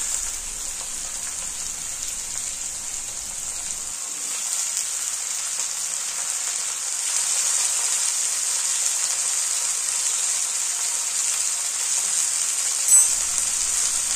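Potatoes and bottle gourd stems frying with snails in a pan, a steady high sizzle that carries on evenly and closely with a faint low stirring rumble early on, no voices.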